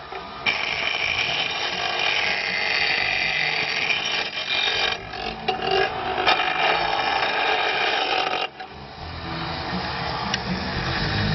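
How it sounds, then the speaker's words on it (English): An SG1ASB mill running on battery power after the solar array is disconnected, giving a steady, loud mechanical grinding whir with rattling texture that holds unbroken for about eleven seconds, dipping briefly near the end. "As you can see, we can keep grinding."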